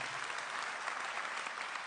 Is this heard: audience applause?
yes